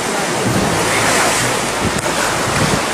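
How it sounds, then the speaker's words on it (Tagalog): Strong waves pound a pier in Vera, Catanduanes during Typhoon Yolanda, a loud, continuous roar of surf blended with heavy wind buffeting the microphone. "malalakas na alon na humampas sa pier ng Vera, Catanduanes"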